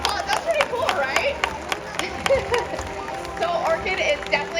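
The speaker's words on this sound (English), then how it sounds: "let's give her another big round of applause" Audience at an orca show at SeaWorld San Diego claps and cheers in an open-air stadium, a steady patter of applause with a few whoops, picked up from a distance, with voices talking over it.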